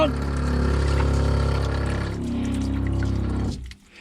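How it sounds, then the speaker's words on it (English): Water runs from the shower head of a Class B Roadtrek camper van during hand-pump winterizing, a loud steady rushing flow that cuts off abruptly near the end. "now I'm going to use my shower head here. Faucet's on."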